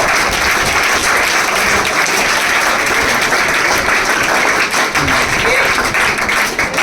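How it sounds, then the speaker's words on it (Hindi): Audience applause at an award ceremony honouring selected students of a coaching class, steady dense clapping from a crowd filling the whole stretch at close range. "हुसैन खान, उनके लिए ताली हो जाए"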